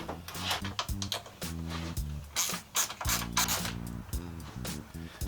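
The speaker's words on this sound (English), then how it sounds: "let's get the nuts off" Ratchet wrench clicking rapidly in repeated bursts while backing off 10 mm nuts on a Yamaha FZ-10/MT-10 tail section, close and distinct with brief pauses between strokes.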